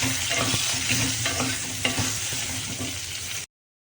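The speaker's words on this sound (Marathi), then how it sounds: "आता सर्व वांगे आपण सर्व वांगे तेलात टाकून घेतलेले आहेत" Stuffed eggplants fry in hot oil, a steady close sizzle with light stirring and scraping sounds, no voices.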